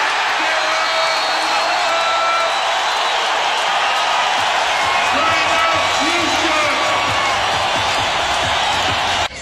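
Arena crowd at a 2008 Utah Jazz vs Houston Rockets NBA basketball game roars and cheers steadily and loudly throughout, with whoops, a few sneaker squeaks and a commentator's voice riding over the din.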